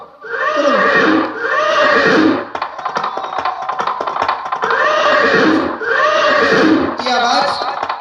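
A horse whinnies loudly several times in long, shrill, wavering calls, close by, with rustling noise between the neighs.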